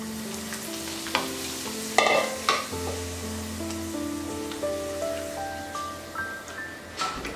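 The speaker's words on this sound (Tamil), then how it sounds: "நான் இன்னொரு அடுப்பில் அப்பளம் வத்தல்லாம் ஃப்ரை பண்ண" Appalam papads and vathal fry in hot oil, a close crackling sizzle with sharp clinks and utensil knocks, plus a steady tonal hum in the background.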